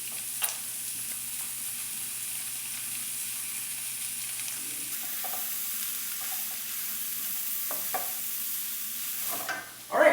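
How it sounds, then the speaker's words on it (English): Onions and vegetables sauté in rendered bacon fat over medium-low heat for carbonara, giving a steady, even hiss of frying. Occasional stirring scrapes cut through, and a louder clatter comes at the end. "We're gonna go into the bacon fat next, and we're just gonna cook it until the onions are a little bit soft."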